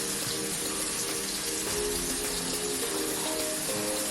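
Water flows steadily from a bathroom tap as hands are wetted at the sink, a continuous close rush with no pauses.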